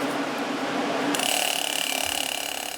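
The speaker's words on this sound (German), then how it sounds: "Mit einem Druckluft-Nadelentroster nimmt der Restaurator Rost und Farbe ab." A restorer works a compressed-air needle scaler over a historic cast-iron lantern, stripping rust and paint; a dense, steady high-pitched rattling hiss starts abruptly and runs on continuously, close and fairly loud.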